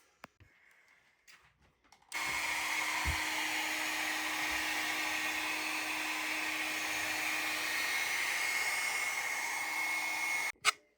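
An electric trimmer cuts a person's own hair above the ears. After a few quiet handling clicks, a steady buzzing drone runs for about eight seconds, then cuts off abruptly.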